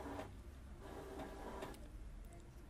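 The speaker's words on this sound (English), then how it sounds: "Your printer takes a moment to roll around a bit," A quiet mechanical whirring and clicking of an Evolis card printer rolling a PVC card, with rollers shuffling in short bursts over a few seconds.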